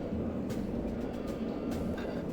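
Steady low rumble of a tram ride in a video game, a continuous rolling rail-like drone with faint rattles over it, no voices.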